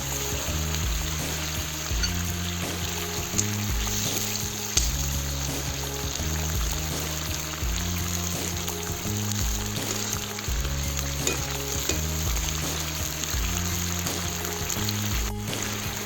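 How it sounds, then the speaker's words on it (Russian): Boiling water poured through a skimmer over rice in a hot pan of Uzbek plov makes a steady, even sizzle and hiss that carries on for the whole stretch, with no one speaking. "Поверх риса через шумовку я наливаю кипяток примерно пол-литра."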